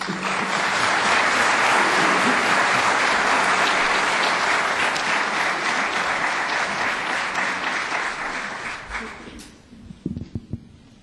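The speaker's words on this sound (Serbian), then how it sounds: "Privitajme naših perših interpretatoroh s veljkim aplauzom" Audience at a folk song festival applauding performers, loud sustained clapping from a large crowd that gradually thins and fades out near the end.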